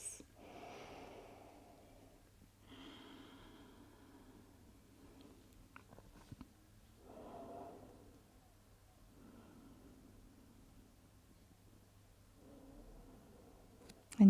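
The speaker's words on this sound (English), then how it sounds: "Notice the breath flowing in. And notice the breath flowing out." Slow, smooth breathing during a yoga session, soft inhales and exhales in long unhurried waves over a quiet background, with a louder rustle at the very end.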